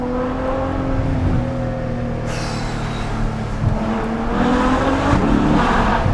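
Ferrari F12 Berlinetta V12 revving close by, a steady engine drone that rises and surges toward the end, with no talk over it.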